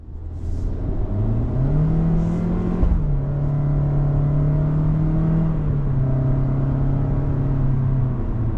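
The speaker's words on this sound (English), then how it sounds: "we're out on the road in this 25 Corolla Cross XLE all-wheel drive" A 2025 Toyota Corolla Cross XLE all-wheel drive pulls away on the road, the engine hum rising in pitch as it accelerates and then settling into a steady cruising drone with road rumble from inside the cabin.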